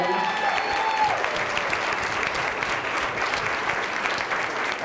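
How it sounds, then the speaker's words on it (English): An audience at a book release party applauds the author with dense, sustained clapping for several seconds, fairly close and even, with a brief tonal sound at the start and no talk. "So let's give Caitlin a big round of applause for writing."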